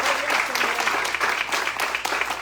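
Congregation in a church applauding steadily for a couple of seconds, a dense, continuous patter of many hands filling the room with no voices standing out.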